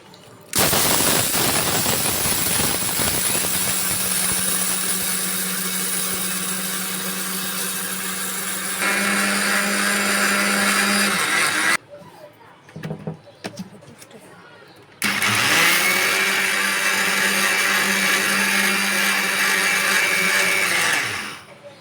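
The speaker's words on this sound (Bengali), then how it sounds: "ডালটি এখন ব্যালেন্ডার করে নিব" A blender grinding fried lentils whirs loudly and continuously, briefly stops with a few clatters, then grinds on again at full speed before cutting off.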